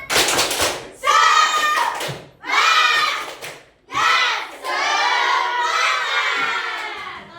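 A group of children clapping in rhythm and shouting a chant together, loud and close, in several bursts with short pauses between.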